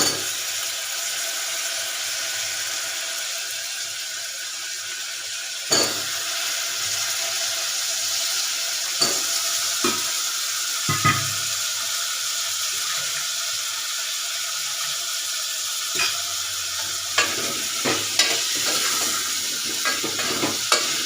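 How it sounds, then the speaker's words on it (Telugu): Cut potato pieces fry in a pan while being stirred, with a continuous close sizzle broken by repeated scraping and clunking from a utensil against the pan, busier toward the end; no one speaks. "అండ్ ఇక్కడ మనం కట్ చేసుకున్న ఆలుగడ్డ ముక్కలు అయితే అందులో వేసుకోవాలి."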